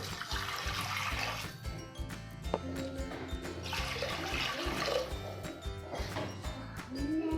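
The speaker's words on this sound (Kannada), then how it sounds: "ಇದ್ರಲ್ಲ ನೀರು ಹಾಕ್ಕೊಳ್ಳೋಣ." Water streams steadily and splashes into a pot for pulao for several seconds, with a continuous rushing sound throughout.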